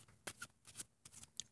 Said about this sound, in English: I'm going to shuffle the deck first before I do anything.